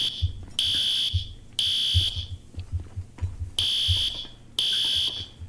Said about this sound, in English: Still got the fire alarms going off.